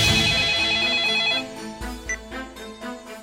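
A telephone rings with a bright, repeating electronic ringtone that sounds loud and alone for about a second and a half, then cuts to fainter scattered tones and knocks.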